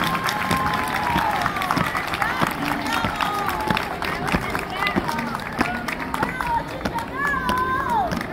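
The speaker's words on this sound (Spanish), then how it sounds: "Aplausos para nuestro Estado Mayor." An audience at a school escort parade contest claps and cheers for the Estado Mayor color guard, steady applause mixed with crowd noise and a voice over a loudspeaker.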